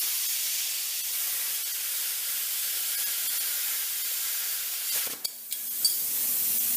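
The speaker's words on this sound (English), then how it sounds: "So I got the plasma cutter fired up here, and I'm going to make the first couple cuts." Plasma cutter slicing through a steel bracket for a Toyota FZJ80 radio mount, a steady close hiss held for about five seconds before breaking into short sputters and pops, with no talking.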